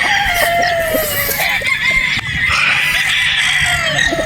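Several Boston Roundhead broodstag roosters crow loudly and continuously at close range, overlapping long drawn-out calls with clucking and farmyard bird noise, and no talk.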